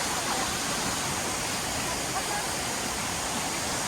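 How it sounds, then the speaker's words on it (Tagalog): Mambontan Falls waterfall roaring as a steady, loud, broadband rush of falling water that fills the whole clip, with no breaks and no other sounds standing out. "Mambontan Falls."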